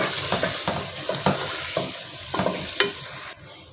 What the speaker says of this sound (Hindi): तो इस मसाले को अब भूनते हैं।